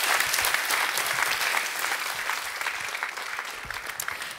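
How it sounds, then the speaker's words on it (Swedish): A crowd at a young entrepreneurs' startup event applauds after a pitch, warm, dense clapping that stays loud and then eases slightly toward the end. "Varma applåder igen till er."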